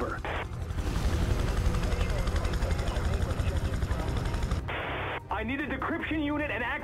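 An in-game helicopter in Prototype 2 approaches a helipad to land, a loud steady rotor roar filling most of the span before cutting to radio chatter and voices.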